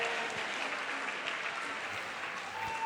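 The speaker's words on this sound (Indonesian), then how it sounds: "Tepuk tangan untuk saya." Steady audience applause at a talent-show style event, a continuous wash of clapping at moderate level with no voices over it.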